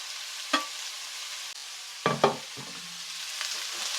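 Capsicum, cabbage and beans stir-fried in a pan for egg fried rice, a few sharp scraping stirs and clatters of the spatula over a faint sizzle, close and otherwise quiet.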